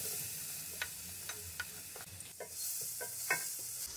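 Two finely chopped onions fry in a cup of oil for beef karahi gosht, with a steady, quiet sizzle under repeated rhythmic scrapes of a spoon stirring the pan.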